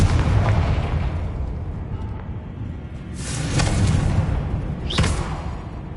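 Fiery Confringo spell blasts in Hogwarts Legacy, two booming bursts with crackling tails over a rumbling game backdrop, the second followed by a bright whooshing zing.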